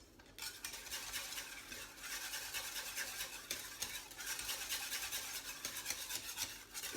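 Whisk worked through a milk mixture in a pan for mushroom soup, a continuous soft swishing and scraping that stays close and even throughout, with no talking.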